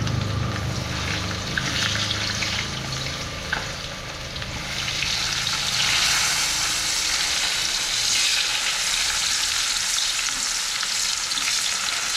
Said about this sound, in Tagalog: So, dito na tayo magigisa